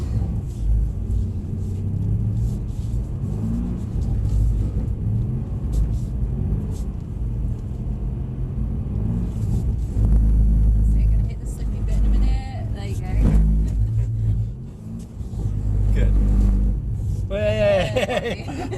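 A Mercedes-Benz car drifting on a track, its engine revving and rumbling steadily close by, with rising and falling surges toward the end; someone talks over the engine throughout.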